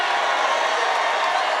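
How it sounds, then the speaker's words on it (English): A large crowd at a Trump rally roars and cheers in a steady, dense wash of voices, loud and continuous throughout with no individual words standing out. "And what a crowd"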